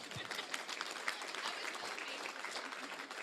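An audience at a sales conference applauds with steady, dense clapping that fills the room, fairly loud and continuous throughout.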